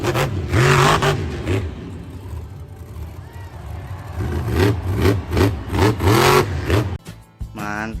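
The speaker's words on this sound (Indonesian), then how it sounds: "ada mobil monster." A toy monster truck engine revs in repeated rising-and-falling bursts, loud and close, with a short clatter near the end.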